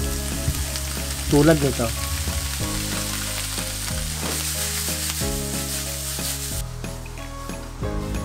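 Kikiam fish balls sizzling and frying in a pan while being stirred for Bicol pancit bato, a steady loud hiss with scraping stirs, and a voice briefly speaking over it.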